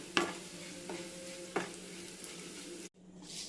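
Bitter gourd roasting in a pan for kichadi: a steady soft sizzle runs throughout, broken by a few sharp stirring scrapes and a brief hiss near the end, with no voices.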